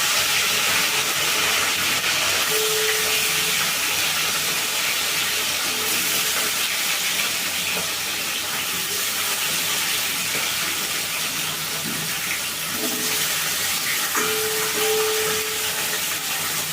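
Rohu fish pieces frying in hot mustard oil in a kadai give a steady, loud sizzling hiss that runs without break for the whole stretch, with no voices.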